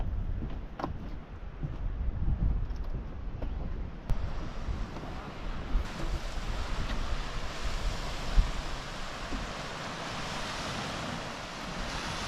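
Beach surf rolls in steadily under gusty wind that buffets the microphone, forming a continuous broadband wash with occasional louder wave surges, with no talking.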